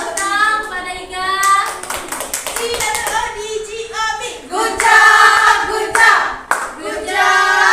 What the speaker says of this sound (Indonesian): Tepuk pada Iga.